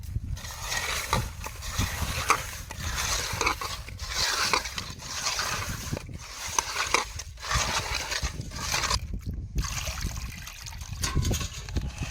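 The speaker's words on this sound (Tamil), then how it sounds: "இப்போ வந்து உப்பு போட்டு வளசிக்கிறோம்" Food being stirred in a pot after salt is added, giving a steady scraping and sloshing texture with irregular knocks, close and continuous without talk.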